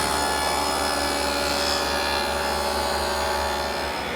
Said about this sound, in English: Using my dado, I've created a groove that's 3/8 of an inch wide and 1/2 an inch deep.